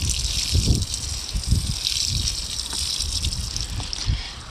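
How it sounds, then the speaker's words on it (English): Water gushing and splashing onto soil around a newly transplanted tomato plant outdoors, a continuous pour with low thumping bursts as it soaks in. "water the plant in"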